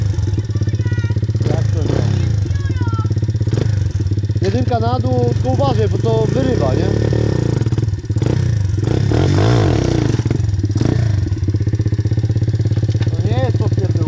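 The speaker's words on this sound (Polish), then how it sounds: "biorą ci motocykl" A motorcycle engine idles with a steady low rumble, with occasional revs and clattering, while several people talk over it.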